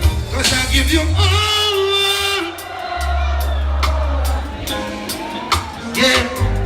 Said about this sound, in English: Let me hear the crowd, let me hear it.